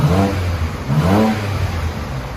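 A BMW 328i with a 3.0L inline-six and a rear muffler delete revving hard twice, the exhaust note rising sharply each time then settling back to a loud rumbling idle, close by.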